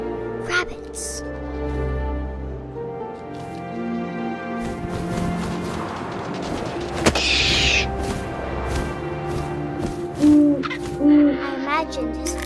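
Owl hoots in What Remains of Edith Finch, a few short low calls near the end over a layered game soundscape of wind and music, with talk running throughout.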